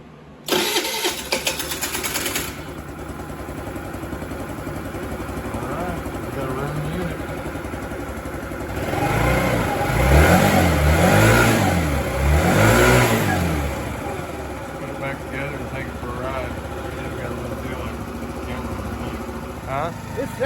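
A GY6 50cc scooter engine fitted with an 80cc big bore kit idles steadily, then revs up in several rising and falling surges before settling back to a steady idle.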